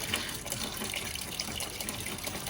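Engine coolant gushes out of an opened cap on an Acura RSX during a turbo install, a faint continuous splashing pour lasting a couple of seconds.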